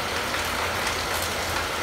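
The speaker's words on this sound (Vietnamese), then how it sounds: "bên ngoài trời đang mưa cho nên nó hơi ồn một tí xíu nha anh em" Steady rain falls outside in central Vietnam, a dense, even hiss of drops on surfaces that stays constant and fills the whole space, with no voices.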